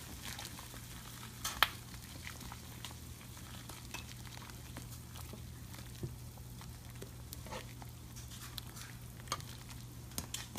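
Chicken marsala frying in a pan while being stirred, with a steady close sizzle, scattered spatula scrapes and clicks, and a low hum underneath throughout.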